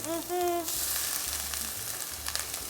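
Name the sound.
onion and pimento frying and stirred in a hot pot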